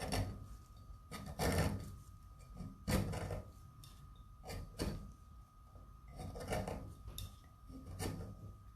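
A tool scrapes dried epoxy from the lip of a tumbler in repeated short rasping strokes, close and fairly quiet, with an irregular rhythm across the whole stretch.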